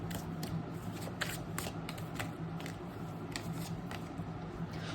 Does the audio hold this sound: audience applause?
no